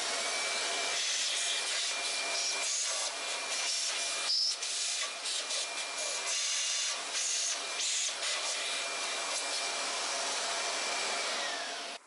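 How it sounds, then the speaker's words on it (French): A strong hissing blast of air runs nearly continuously, pulsing in short bursts, like a compressed air blower close up, cleaning around a car's brake disc during a brake disc change. "après tu viens y mettre un coup de soufflette ou un aspirateur."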